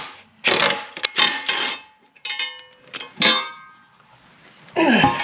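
Wrench work loosening the bottom bolts on a Mongo high-inertia mulcher head with a 19mm wrench: several close metallic clanks and ratcheting clicks in short bursts, separated by brief pauses.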